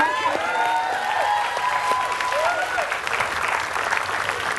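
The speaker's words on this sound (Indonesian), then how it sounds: "Tepuk tangan dong buat Siren." Audience applause at a TV studio show, a steady, dense wash of clapping throughout, with whistles, cheers and calls from the crowd rising above it.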